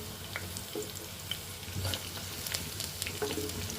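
Onions, green chilies, ginger and garlic fry in hot oil for a tempering, giving a steady close sizzle with faint stirring clicks throughout.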